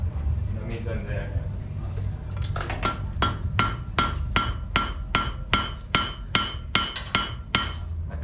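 A blacksmith pounds hot iron to forge-weld it at an old village smithy, a rapid, steady series of about fourteen loud, ringing hammer blows close by, preceded by brief talk and a low background rumble.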